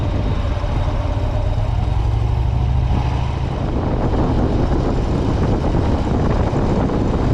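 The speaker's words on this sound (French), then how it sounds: "je vais essayer de privilégier le son du moteur lorsque c'est possible" A vehicle's engine rumbles steadily while driving along a road leaving town, a loud low drone mixed with rushing wind noise that grows rougher toward the end.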